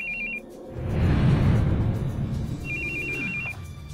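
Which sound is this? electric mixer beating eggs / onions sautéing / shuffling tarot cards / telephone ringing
telephone ringing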